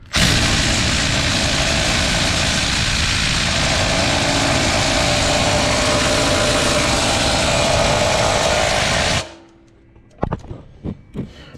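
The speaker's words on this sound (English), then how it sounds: "I wish I had a stronger impact wrench" A loud, steady mechanical roar from an impact wrench removing transmission bolts on a 2014 Ford Escape runs nonstop for about nine seconds and then cuts out, followed by a few short, sharp bursts close by.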